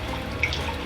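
Tap water runs into a container half-filled for a homestead mix, giving a steady close splashing trickle with a faint bright drip.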